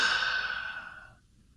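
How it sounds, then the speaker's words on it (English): A single deep breath is let out slowly as a long, airy exhale close to the mic, fading out over about a second and then going quiet. "Take a deep breath."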